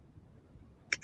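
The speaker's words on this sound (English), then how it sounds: "You might hear pills clicking because I'm filling up Brian's pill thing right now." A few pills clicking together as a pill organizer is filled, two quick faint clicks close by near the end after a quiet stretch.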